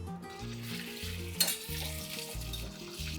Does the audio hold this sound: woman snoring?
no